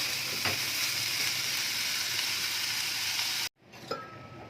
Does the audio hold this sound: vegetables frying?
yes